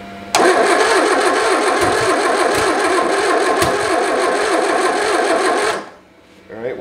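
A 1976 MG Midget left abandoned is cranked and starts, giving a loud, rapid, rattling engine clatter that runs steadily for several seconds before cutting off abruptly.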